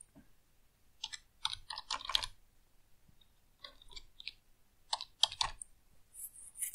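Bursts of key presses on a computer keyboard while code is typed, clustered clicks in short irregular runs separated by pauses, close and fairly quiet with no voice.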